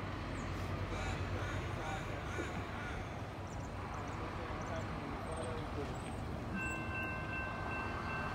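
A steam train rumbles past outdoors in a steady, continuous roar with a faint horn-like tone near the end, fairly distant and heard under the murmur of people talking.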